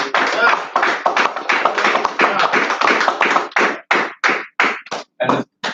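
Congregation clapping together in a steady, fast rhythm, loud and close, with a dense run of claps that thins toward the end into separate sharp bursts.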